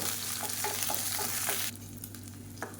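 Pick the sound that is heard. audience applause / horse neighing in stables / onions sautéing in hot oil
onions sautéing in hot oil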